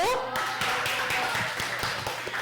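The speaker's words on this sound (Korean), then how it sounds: "우리 권혜찬에게도 박수!" Children and adults in a church Sunday school service clapping for a child, a loose patter of claps with distinct individual hits, moderately close and continuing throughout.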